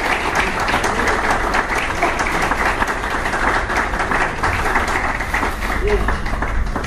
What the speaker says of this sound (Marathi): जोरदार टाळ्या झाल्या पाहिजे सरांसाठी